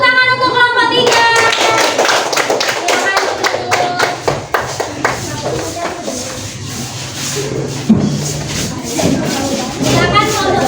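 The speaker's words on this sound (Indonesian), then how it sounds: "Tepuk tangan untuk kelompok 3." Schoolchildren in a classroom clap for a group of classmates, a burst of fairly loud, rhythmic hand claps with shuffling and tapping, and some voices mixed in.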